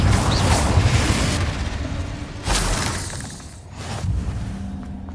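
Confringo blasting curse explosions in the Hogwarts Legacy video game: loud, close bursts with shattering crashes, one sharp blast partway through and another swell near the end, no talking.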